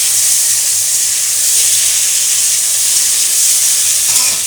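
A spice paste of white sesame, mustard and chili fries in a pan, making a loud, steady hiss and sizzle throughout.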